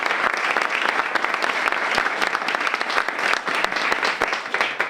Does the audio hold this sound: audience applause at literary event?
yes